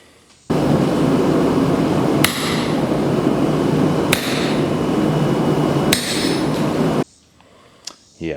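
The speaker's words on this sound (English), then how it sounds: "when cutting with the chisel at the anvil, you want to go slow and take your time" A hammer strikes a chisel cutting hot steel at a blacksmith's anvil, a few sharp, widely spaced clanks over a loud, steady roar that cuts off near the end.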